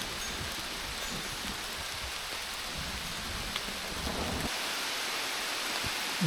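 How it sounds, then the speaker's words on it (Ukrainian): Steady, dense, warm rain pours down without pause while hiking in the Albanian Alps, a heavy hiss filling the whole stretch with no voices. "Дощ стає сильнішим"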